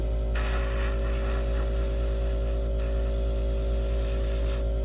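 An airbrush sprays camouflage paint in a steady hiss over a constant low electrical hum, with brief breaks in the spray around the start and middle.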